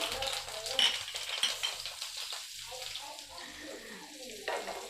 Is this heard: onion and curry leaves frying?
yes